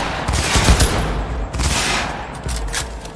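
Rapid bursts of automatic gunfire from the video game Cyberpunk 2077, loud and close, firing in repeated volleys over about three seconds with brief gaps between them.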